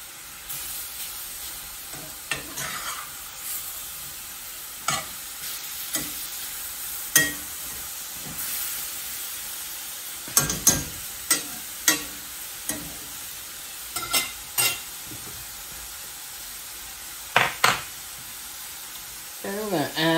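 Beef and rice sizzles steadily in a pot while a utensil stirs it, with irregular close clanks and scrapes against the pot over the constant frying hiss.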